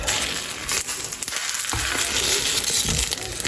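Food fries in a stainless steel pan with a loud, continuous close-up sizzle, the crackle briefly dipping once partway through before returning at full strength.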